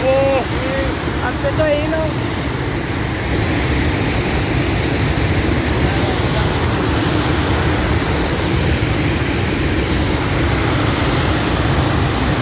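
Water roaring and spraying at Bhandardara waterfall, a loud dense broadband rush heard up close with no breaks, and a brief whistle or voice-like tone near the start.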